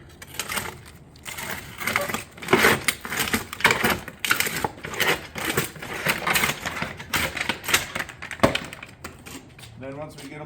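Metal ridge roofing panels being cut and bent by hand, a busy run of close, loud metallic crunching, clattering and snipping strokes in an irregular rhythm with people talking over it.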